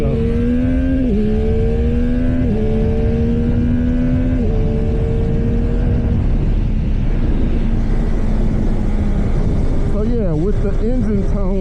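A motorcycle engine held in a wheelie, its steady droning tone sagging and dipping in pitch in small steps, then wavering near the end, loud and close throughout.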